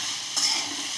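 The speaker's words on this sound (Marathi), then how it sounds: "चांगले असे परतून घ्यायचे अगोदर।" Mixed vegetables for a Maharashtrian khengat are stir-fried on a high flame, giving a brief, close, steady sizzle with one quick stirring swish.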